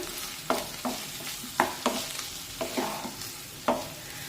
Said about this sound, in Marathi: बटाटा आपण थोडस हलवून घेऊया